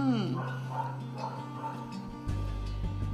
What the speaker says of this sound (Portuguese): Olha, já tem um cachorro.